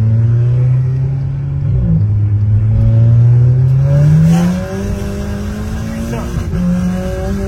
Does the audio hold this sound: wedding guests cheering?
no